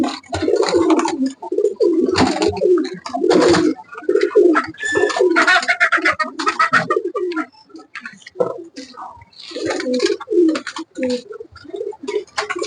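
Domestic pigeons coo close by on a rainy day, their throaty rolling calls repeating in overlapping bursts with brief pauses between phrases.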